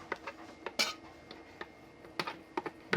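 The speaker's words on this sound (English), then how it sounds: "I'm going to go ahead and scrape down the sides" A scraper working cookie dough off the sides of a mixing bowl, giving soft intermittent scrapes and a few sharp clinks and taps against the bowl, quiet and close.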